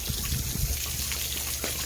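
Several water streams spray from splash pad nozzles, a continuous hissing, splashing rush with small irregular splatters, close and steady without talk.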